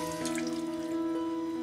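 Water pours steadily from a tap into a cooking pot during a chicken caldereta preparation, a short continuous rushing fill heard close with a ringing tonal hum.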